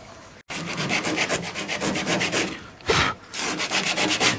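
A car body panel is rubbed and cleaned by hand before painting during a Ford XC Fairmont 351 restoration: rapid, rhythmic, close back-and-forth scrubbing strokes with one brief pause.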